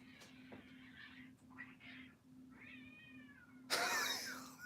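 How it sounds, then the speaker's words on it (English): Cats yowling and caterwauling outside at night, heard from a distance through a window: several drawn-out wavering meows and growls, then a sudden harsh screeching burst as they start scrapping, over a steady low electrical hum. "Maybe I'll go check on the kitty cat after, if it keeps raring."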